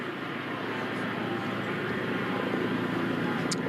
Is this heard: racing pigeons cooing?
no